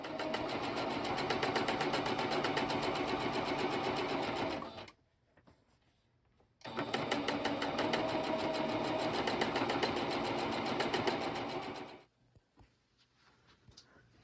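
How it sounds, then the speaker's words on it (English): A sewing machine stitches speaker cloth for an RCA Tapestry Model 103 restoration in two long bursts of rapid mechanical chatter, close and loud, with a short quiet pause between them. "The cord's going to go in here, and I'm going to stitch here."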